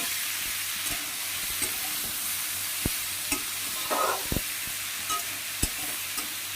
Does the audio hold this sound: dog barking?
no